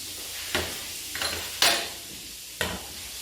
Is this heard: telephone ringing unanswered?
no